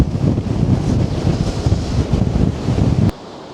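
Huge rough sea waves crash along the Blackpool seafront under a loud, steady roar of wind buffeting the microphone, surf churning continuously before the noise drops away abruptly near the end.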